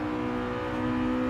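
A Honda Integra engine in Gran Turismo Sport holds a steady high rev, a sustained buzzing harmonic drone without breaks, loud and close.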